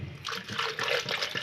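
Water pours into a blender holding strawberries, a steady close trickle and splash that runs unbroken for about a second and a half with no talk over it.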